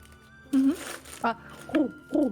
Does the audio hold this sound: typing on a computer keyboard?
no